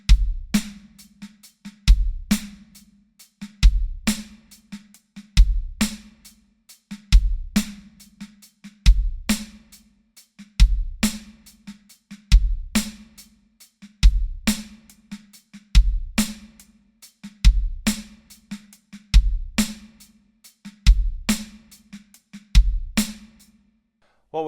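Breakbeat drum groove on a kit, with punchy bass drum and snare hits and soft ghost notes, repeating in an even loop for several bars, loud and close with no talking.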